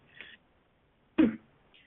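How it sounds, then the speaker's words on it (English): Two short coughs, a light throat-clearing one and then a sharper, louder cough, close and otherwise quiet. "excuse me, I got a cough"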